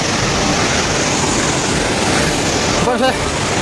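Floodwater rushing through the bazaar at Trishuli, Nepal, a steady loud broadband roar that fills the whole clip, with a brief voice-like burst near the end.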